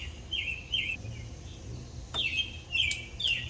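A bird sings short, high, repeated chirping phrases over a low background rumble, fairly close and steady.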